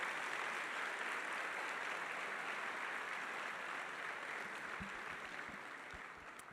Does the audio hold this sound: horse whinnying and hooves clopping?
no